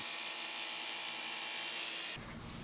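A dado blade on a table saw cuts slots in a wooden block with a steady high whine that drops off near the end as the cut finishes.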